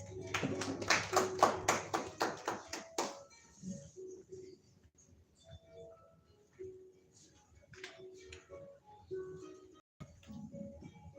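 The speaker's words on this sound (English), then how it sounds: "Let's give him a round of applause." A short burst of clapping from an audience at a Gulu City Oktoberfest event, lasting about three seconds with distinct rhythmic claps, then fading into quiet background sounds and faint birdsong.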